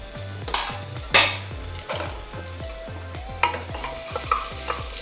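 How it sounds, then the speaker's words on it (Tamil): Grated ginger, chillies and onion sizzle in hot oil, with a steady frying crackle close by and repeated rhythmic scraping strokes of a spoon stirring the pan. "இந்த ஆயிலில் இத்தோண்டு கிரேட்டட் ஜிஞ்சர், சில்லிஸ் அண்ட் ஆனியன் ஒரே டைமில் போட்டுருவேன். ஏன்னா ஆல்ரெடி நல்லா ஆயில் சூடாயிடுச்சு."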